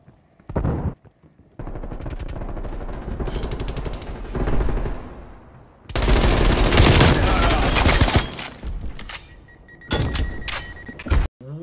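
Rapid bursts of SMG gunfire in a Call of Duty match, loud and dense with dry clicks and brief pauses between volleys.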